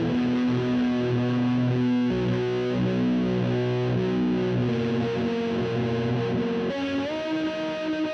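Old Blood Noise Excess V2 pedal running modulated delay on an instrument, producing a dense, continuous wash of distorted repeating notes that shift pitch in steps, loud and unbroken for about eight seconds.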